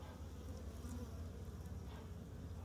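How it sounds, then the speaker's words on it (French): A steady low buzzing hum of a black honeybee colony droning continuously around a hive, fairly quiet, with no voices. "c'est encore une colonie donc d'abeilles noires"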